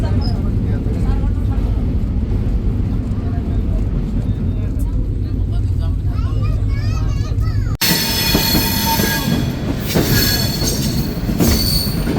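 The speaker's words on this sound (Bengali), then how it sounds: "ট্রেনটি প্রবেশ করলো তার 7তম স্টপেজ আলমডাঙ্গা রেলওয়ে স্টেশনের 1 নম্বর প্ল্যাটফর্মে" Chitra Express pulling into platform 1 at Alamdanga railway station, with loud, continuous wheel squeal and rumbling rail noise, a sharp change partway as the carriage noise opens up and grows brighter.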